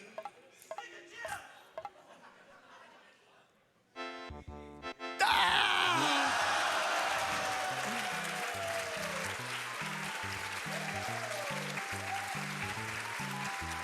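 After a short musical jingle from the game Super Mario World, a burst of applause and cheering swells and carries on steadily over a repeating electronic tune.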